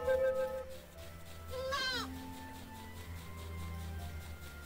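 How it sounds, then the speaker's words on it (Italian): Goats bleat near a mountain pasture in the Heidi video game: a single wavering, nasal bleat rises over a soft ambient game backdrop, with a tonal chime fading out at the start. "Ecco perché si sente le capre, il pascolo è qua vicino"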